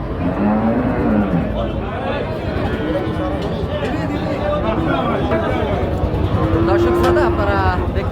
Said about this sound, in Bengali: সাত মাইল গরুর হাট থেকে গাব গরু বড় বড় গাব গরুগুলো আসলে দেখাচ্ছি